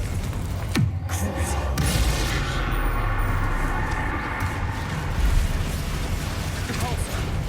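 Confringo spell explosions in Hogwarts Legacy go off as a few sharp, booming bursts over a dense, busy mix of game sounds, with a voice speaking over the action.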